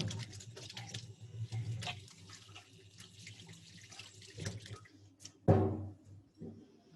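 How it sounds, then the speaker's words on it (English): Hands washed under a running sink tap at a cooking event, water splashing and pattering softly in the basin, then a sudden louder gush near the end, faint and close with background murmur. "being a chef, I have to wash my hands again"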